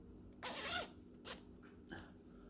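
The zipper on a little girl's sewn dress is pulled during a test, giving one longer rasping zip followed by two shorter, fainter zips in a quiet room.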